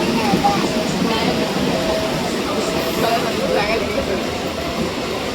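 Inside a crowded Sunday local commuter train in Mumbai, a steady rumble of the moving carriage with clattering wheels runs throughout, while people talk over it.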